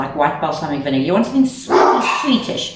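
Several dogs bark and yip in a home kitchen during noodle salad prep, the barks loud and close, overlapping a person who keeps talking.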